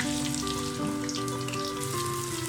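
Chopped onions sizzling in hot oil, a steady crackling fry heard up close under a sustained musical tone, with no talking.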